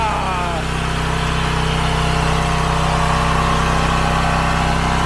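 A Predator 420 engine fitted to a log splitter runs close and loud at a steady throttle, a continuous pulsing drone with even firing rhythm and no breaks.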